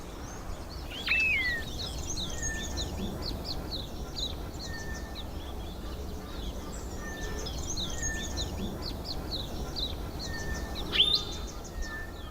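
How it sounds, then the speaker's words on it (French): Birds sing in Kirstenbosch botanical garden, South Africa: several birds trill and chirp on and off at a moderate distance, with repeated short whistles and two louder sweeping calls, over a faint outdoor hum. "le chant des oiseaux."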